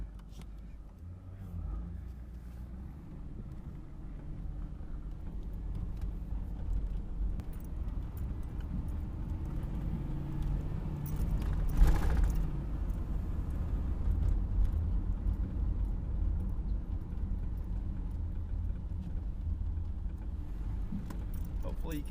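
A 1995 Chevy G20 conversion van drives along a road with a low, steady engine rumble that builds gradually and surges briefly near the middle, while loose keys jangle throughout.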